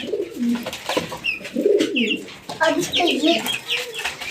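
Pigeons coo nearby in low, throaty, repeated phrases, with a few higher chirps and some rustling in the background.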